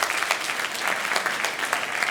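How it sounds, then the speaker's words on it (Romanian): Dense audience applause at a grand final event, a steady wash of many hands clapping throughout, even and sustained with no voices standing out. "Haideți să aplaude cine s-a gândit cel puțin o dată la care."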